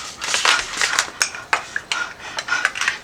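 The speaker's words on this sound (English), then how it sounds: "Stir my seeds. Stir my chia seeds." Chia seeds stirred fast in a bowl, with a spoon scraping and clinking against the sides in quick, irregular strokes at close range.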